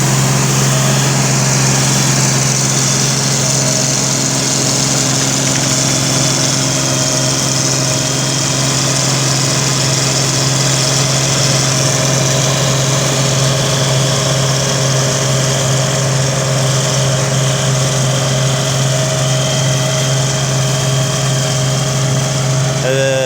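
A combine harvester engine runs at full throttle with a loud, steady, droning roar and constant mechanical vibration that holds unchanged for over twenty seconds.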